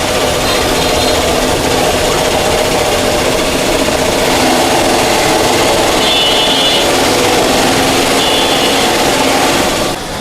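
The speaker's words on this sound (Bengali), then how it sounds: "আপনার মেশিনে যে সেলাইগুলো করতেছে" An industrial sewing machine stitches a mattress on a factory floor, a steady loud mechanical whir running continuously with faint higher whines, no voices.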